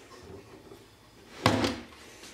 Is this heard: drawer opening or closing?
yes